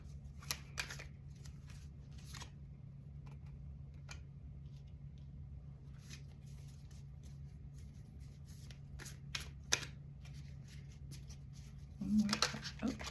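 Tarot cards are shuffled for a reading, heard as soft intermittent riffling and flicking over a low steady hum, faint overall, with a brief louder rustle near the end.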